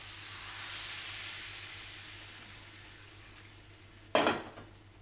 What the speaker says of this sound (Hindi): यहाँ पे ये प्याज हो रहा है फ्राई, इसका तड़का बन रहा है।